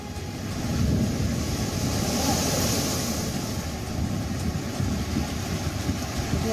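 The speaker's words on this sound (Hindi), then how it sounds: "समंदर में 10 फीट से ज्यादा ऊंची लहरें उठ रही हैं।" High surf over ten feet rolls in along the coast during Cyclone Tauktae, a steady roaring wash of waves mixed with gusting wind buffeting the microphone, fairly distant and continuous, with no voices.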